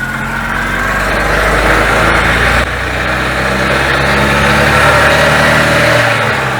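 An Invacar's engine with its CVT pulley drive revs hard under full throttle, a loud, sustained droning roar with a whining edge that stays steady, briefly dips partway through, then keeps pulling, with no talking.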